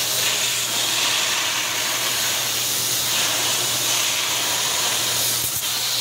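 Steam hisses from a boiling car radiator in a workshop, a steady, loud, continuous rushing hiss with no talk over it.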